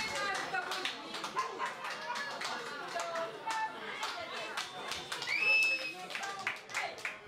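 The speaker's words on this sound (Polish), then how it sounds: "wielkie brawa dla Państwa z" A small audience at a birthday concert tribute claps in scattered, uneven bursts while people chatter and talk nearby, the applause mixed under close voices.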